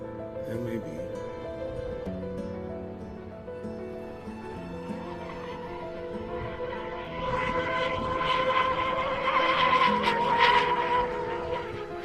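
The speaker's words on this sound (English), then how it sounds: "It feels like these motors have a lot of usable RPM." A twin-hull RC catamaran boat powered by Dynamo 57x113 brushless motors runs on water with a high-pitched motor whine that climbs as it speeds up, while a person talks over it.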